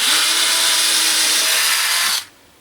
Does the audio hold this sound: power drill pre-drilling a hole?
yes